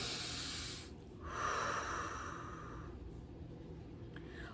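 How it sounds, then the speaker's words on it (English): A single slow deep breath, a long airy inhale followed by a breathy exhale, close and quiet. "take a deep breath."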